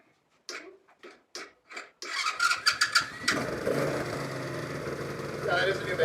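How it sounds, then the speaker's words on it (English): Tao Tao ATK 125 motorcycle starting with the key: a few short voices, then the starter whirs and cranks briefly before the engine catches and settles into a steady idle up close. "We're going to go ahead and turn the key and get it started"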